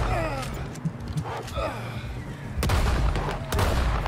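Gunshots in the video game Red Dead Redemption 2, two sharp cracks over a steady game ambience, with someone talking and breathing over them up close.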